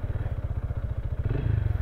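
Motorcycle riding over a rough, slippery access road between Antique and Capiz, its engine thumping in a steady rhythmic pulse close by, then briefly revving louder near the end.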